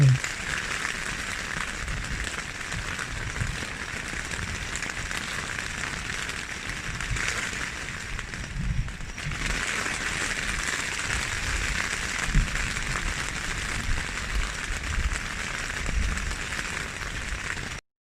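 Steady rain patters on a tent flysheet at Phu Thap Boek, Thailand, a dense, even hiss that continues close by without a break for the whole stretch.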